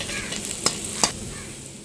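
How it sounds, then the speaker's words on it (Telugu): Ten peeled garlic cloves fry in a pan for bitter gourd onion masala, giving a soft continuous sizzle with two sharp stirring clinks of a utensil against the pan. "ఒలిచి పెట్టుకున్న 10 వెల్లుల్లి రెబ్బలండి. ఇవి బాగా ఫ్రై చేసుకోవాలి."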